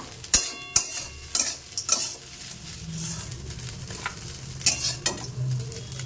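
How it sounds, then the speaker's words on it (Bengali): Crispy chicken reheats in a kadai with a low sizzle, interrupted by sharp metallic scrapes and knocks of a spatula stirring against the pan. "আজ এখন একটু এই কড়াইতে গরম করে নেব।"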